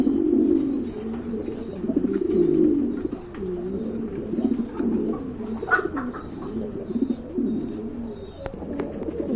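Pigeons cooing steadily at a large pigeon farm, many overlapping low throaty coos rolling on throughout, close and fairly loud, with a few faint chirps above.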